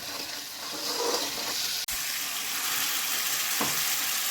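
Hot water poured into a simmering fish curry, a steady hiss and gush of liquid over the bubbling pot, with a short break midway and a soft knock near the end.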